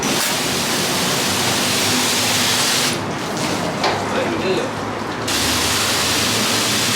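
Loud, steady hiss of water spraying close by while washing a 2020 Harley-Davidson Road Glide Special motorcycle; it dips briefly in the middle while someone says a couple of words, then surges back.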